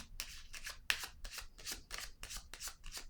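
Small cards laid down on a table during a reading, a series of close, soft papery slaps and brushing swishes in an irregular rhythm, quiet and with no talking.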